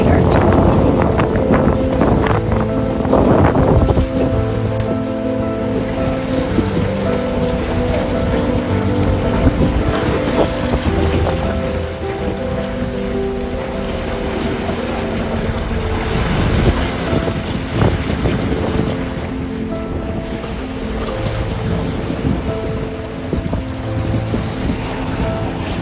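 A boat engine running at 2,500 RPM drones steadily under wind buffeting and sloshing water, a constant low hum throughout with faint voices at times.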